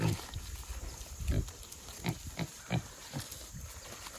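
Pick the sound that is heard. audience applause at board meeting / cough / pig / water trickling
pig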